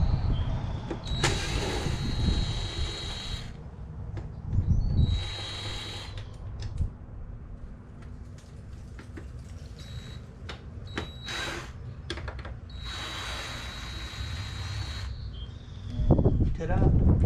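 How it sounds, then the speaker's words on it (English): Torx screws are removed from the air diffusers of a Harley Road Glide motorcycle with a power tool, giving repeated bursts of high whirring with pauses between them, and a person talks in between. "What I'm taking off are these little air diffusers here. It's a T25 Torx"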